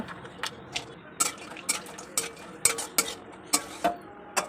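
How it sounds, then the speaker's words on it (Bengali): Dry nuts fry in two spoons of ghee in a wok for Nawabi sevai, with a spatula tapping and scraping the pan in regular sharp clicks about twice a second over a faint sizzle. "কড়াইতে 2 চামচ ঘি দিয়ে ড্রাই নাটসগুলোকে ভেজে নেব"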